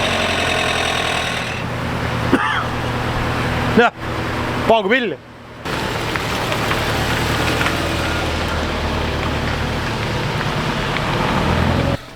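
A car engine idling steadily just after starting, a continuous low rumble running through most of the clip, briefly dipping around four to five seconds, with someone speaking briefly over it. The car is reportedly misfiring on its second cylinder.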